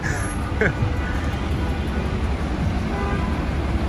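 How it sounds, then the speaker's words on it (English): Dense New York City street traffic with car horns honking, a short toot standing out over a steady roar of engines, with voices mixed into the noise. "Car horns are New York City's lullaby"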